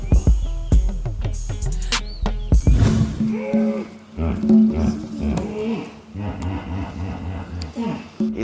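Deep, grunting honks and wheezy bellows from hippopotamuses, repeating at a moderate distance over a noisy outdoor background in the Serengeti, Tanzania.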